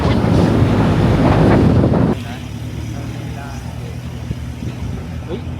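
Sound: strong wind blowing on a mountain

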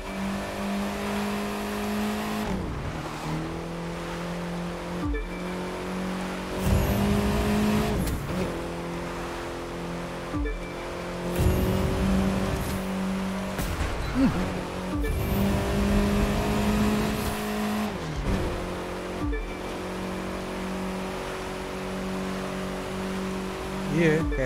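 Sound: car engine revving and tires in The Crew racing video game

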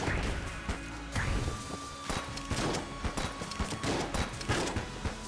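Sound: gunfire in Enter the Gungeon video game

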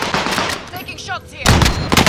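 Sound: gunfire in video game Call of Duty Warzone, Rebirth Island

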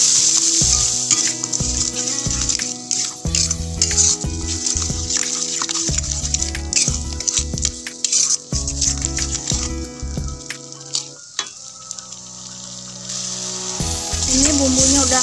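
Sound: stirring beef skin (kikil) frying in a pan

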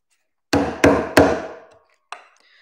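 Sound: knife carving a wedge cut into wood

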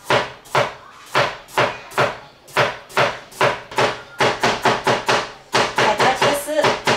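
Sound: knife slicing carrots on a cutting board

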